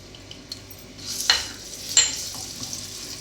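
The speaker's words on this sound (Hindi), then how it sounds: "और इसको हमने हल्का सा सौटे करना है। जी, तो यहाँ आप देख सकते हैं गार्लिक हमारा सौते हो चुका है।" Garlic paste sautés in olive oil with a soft, steady sizzle, and two brief louder scrapes of a utensil stirring the pan come about a second apart.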